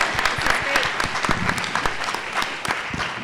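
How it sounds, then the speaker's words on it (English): Sustained applause from a symposium audience for a panel, dense and steady clapping filling the room throughout, with some voices mixed in. "let's give this panel a great round of applause"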